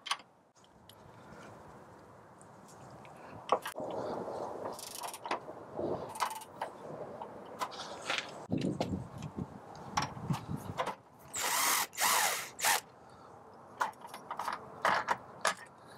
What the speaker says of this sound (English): Our next step is to take off this upper shock bolt right here. Grab yourself a 15 millimeter socket